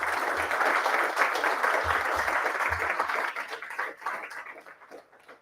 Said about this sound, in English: we need a warm applause for Eugene, who is streaming, and Danny